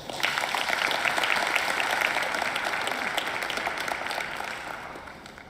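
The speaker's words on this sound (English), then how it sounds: "Could you please give our winners this today a round of applause?" Sustained applause from a sizeable crowd, steady dense clapping that gradually tapers off toward the end, with no speech over it.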